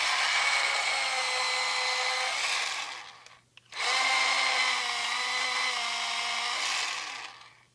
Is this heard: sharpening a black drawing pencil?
yes